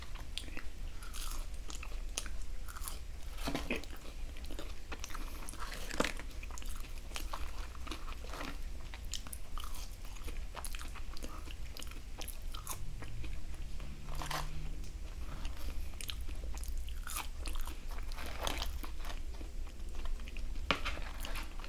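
Close biting and chewing of a popcorn chicken sandwich, with repeated crunchy bites and steady mastication throughout and no talking.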